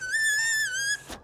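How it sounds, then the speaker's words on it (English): A homemade whistle made from a soda can blown in one steady, shrill tone lasting about a second, close and loud, ending abruptly with a short breathy puff. "you can make a whistle out of a 7-Up, well, any kind of soda can"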